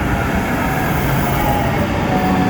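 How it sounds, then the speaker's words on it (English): An LA Metro A Line train pulls into a station, giving a loud, steady rumble of wheels and a faint squeal that go on without a break, heard close from the platform. "A-Line train towards East LA is now arriving."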